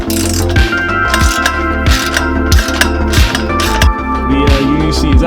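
A ratchet wrench clicks in steady repeated bursts, close and loud, loosening rusty flange bolts under a BMW E36 M3, with short pauses between strokes and faint metallic rattles.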